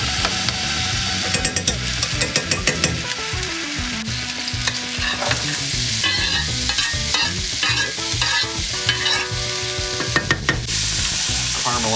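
Onions and garlic sauté in a pan with a steady, close sizzle and hiss that continues throughout, while background music with sustained tones plays over it.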